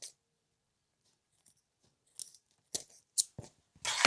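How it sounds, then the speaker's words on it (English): Scissors trim zipper tape off a fabric boxy bag, giving several short, sharp snipping cuts close by in quick succession after a quiet start. "Now I'll grab my not so good scissors and trim down that zipper tape."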